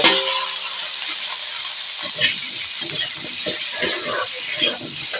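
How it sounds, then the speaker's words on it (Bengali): Kohlrabi and potato pieces fry with a loud, steady sizzle in a pan while a spatula stirs them in repeated scraping strokes, close up and without talk. "কিছুক্ষণ এইভাবে নেড়ে নেব"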